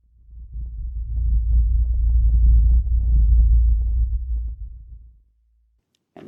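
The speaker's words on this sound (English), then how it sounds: "here is a sort of out of phase rumbling" Low, out-of-phase rumble lurking under evil magic in a video game, a deep throbbing drone that swells for about five seconds, then cuts to silence before a brief faint click at the end.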